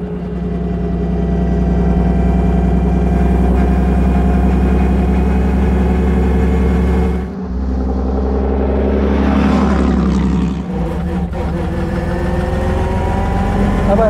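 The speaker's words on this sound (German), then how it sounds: "Also so ein Motor." A 1927 Mercedes 680S touring car's large engine idles loudly with a deep, steady drone and rich harmonic hum, briefly dipping twice before settling back into its even throb.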